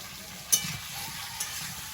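Onion dropped into a pan of frying potato and papaya, giving a soft, steady sizzle with a couple of brief clinks, fairly quiet and close.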